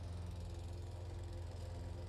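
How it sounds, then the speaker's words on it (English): Lawn mower engine running, a steady low drone with rapid pulsing, constant and fairly close, with no talk. "That might be the worst mower of all time"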